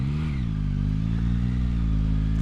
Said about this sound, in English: the exhaust on the MT-09 as standard is pretty quiet